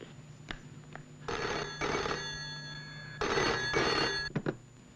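A telephone rings for an outgoing call: two clear double-burst electronic rings with a short quiet gap between them, close and fairly soft in an indoor room.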